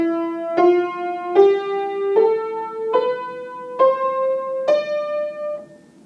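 A D Dorian mode scale is played as seven clear, evenly spaced single notes climbing step by step, each ringing into the next, alone with no talk.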